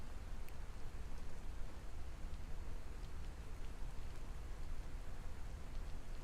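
Rain pours in DayZ on Chernarus as an even, broadband hiss that holds steady throughout, fairly quiet and with no voices over it.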